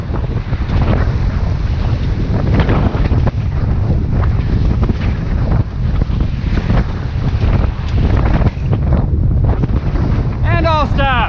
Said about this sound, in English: That wind is a son of a gun right through here.